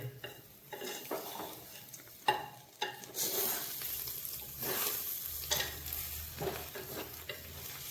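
Egg rice being stirred in a pot with fried egg folded through, producing repeated scraping and clinking strokes over a steady sizzle, close and fairly loud, with no talking.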